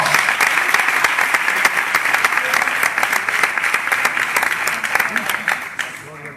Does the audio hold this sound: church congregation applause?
yes